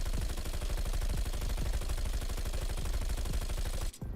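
Sustained rapid automatic fire from the Bizon submachine gun with a speed mag in Call of Duty Black Ops Cold War, a loud continuous rattle of closely spaced shots that cuts off abruptly near the end.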